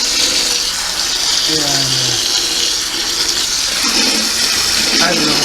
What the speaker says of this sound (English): put it on both hot and cold at the same time. That way it fills the bucket better.